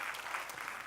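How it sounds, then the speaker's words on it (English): Audience applause at a live talk, a steady wash of clapping from a crowd that fills the brief moment with no voices over it. "how many of you think you could recall the most delicious meal you've ever eaten?"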